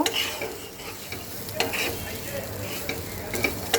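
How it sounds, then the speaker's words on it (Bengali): Salted potatoes frying in a pan are stirred over low heat, a busy scraping and clinking stir above a constant sizzle, close and fairly loud, with no talk. "লবণটা দেওয়ার পর এবার আমি এবার একটু নেড়ে দেব"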